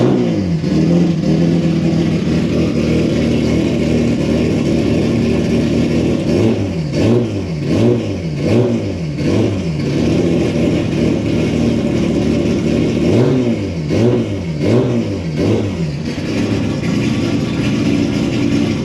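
A car engine idling loudly and steadily, then revved repeatedly in quick rising and falling bursts, close up, with no talking.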